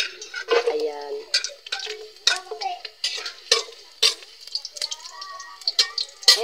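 Garlic frying in a hot pan with scraping stirring and clinks of a utensil, close and busy, with someone talking over it.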